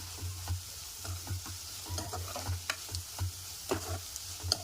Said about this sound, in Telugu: దీంట్లోకి ఒక స్పూన్ సాల్ట్ సాల్ట్ అంతా మంచిగా కలిసేలాగా కలిపేసుకుందాం